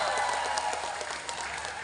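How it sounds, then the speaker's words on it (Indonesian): Crowd applause for BRI and TNI Mekar at a launch event, a steady dense patter of many hands clapping together throughout, moderately loud and without a break. "Tepuk tangan buat BRI dan TNI Mekar."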